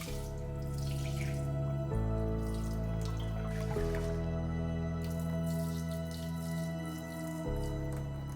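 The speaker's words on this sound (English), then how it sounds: "Rinse and drain the rice 2 to 3 times to get rid of the excess starch." Sushi rice rinsed and drained in water, with a tap running steadily and faint splashing beneath continuous background music.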